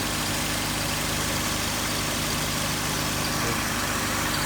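A Honda Civic Si engine idling steadily and close by, a constant low rumble with a continuous broadband hiss on top, unchanging for the whole stretch and with no talking.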